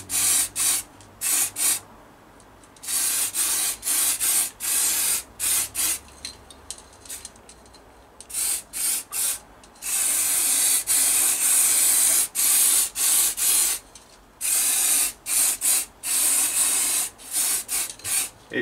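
Cheap eBay aerosol paint sprays onto a Rover P6 V8 fan in a series of hissing bursts, some short and rapid, others long and sustained, close and loud with pauses between coats.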